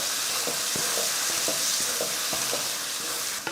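Curry leaves and coriander being stirred into a mixture in a pan, giving a steady bright sizzle with a run of regular spoon scrapes roughly every half second, close and fairly loud with no talking.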